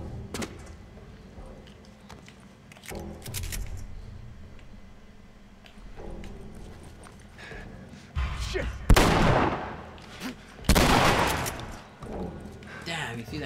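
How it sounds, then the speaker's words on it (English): Gunfire in the video game The Last of Us, several sharp loud shot bursts with decaying tails, the strongest near the end, set against quieter game ambience and scattered clicks. "Damn, you see that crazy shot?"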